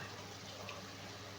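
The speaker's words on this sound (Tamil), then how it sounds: "தண்ணி விட்டுடலாம்." Water pours steadily into a cooking pan holding garlic, a continuous close splashing rush that lasts throughout with no pauses.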